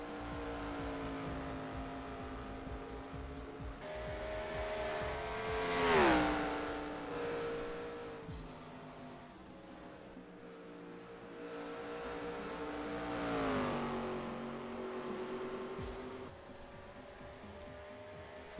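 ARCA race cars at speed on a track at Pikes Peak International Raceway, engines droning loudly with rising and falling pitch as cars pass close by, two strong swells around the passes, continuous with no talk.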